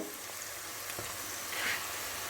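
Onions frying in oil for a Kerala thikkadi dish, a steady soft crackling sizzle that runs evenly throughout, close and moderately quiet with no talking.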